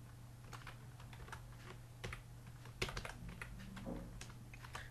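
Computer keyboard typing jQuery code, a quiet run of irregular key clicks over a faint steady hum, close and without talk.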